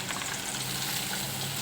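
Tomatoes frying in oil in a pan while a drumstick vegetable dish is cooked, giving a steady, close, moderately loud broadband sizzle that carries on without a break, with no talking.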